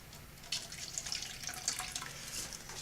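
Water trickles and splashes steadily onto potted hot pepper seedlings in soil, a close, gentle pour with small droplet patters running throughout.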